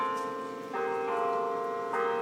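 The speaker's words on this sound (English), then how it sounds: "the bells of Boom U have spoken" Church bells ring out in a steady, sustained peal with layered tones, new strikes landing about a second apart, moderately distant and alone, with no voices.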